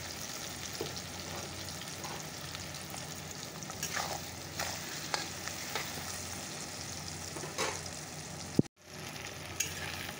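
Onion, garlic and tomato sizzle steadily in a pan with occasional scraping stirs, close and fairly loud, before a brief sharp knock and a moment of near silence near the end.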